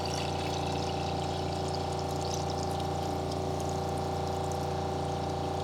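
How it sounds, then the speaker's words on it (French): Tap water pours into a kitchen pot over eggs, a steady continuous rushing stream heard close and loud from start to finish, with no talking. "tu viens mettre de l'eau jusqu'à atteindre le haut des œufs"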